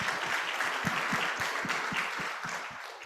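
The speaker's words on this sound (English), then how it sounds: "A round of applause for that" Applause from an audience at a youth innovation forum, moderately faint and steady, with distinct individual claps audible close by over the crowd's wash of clapping.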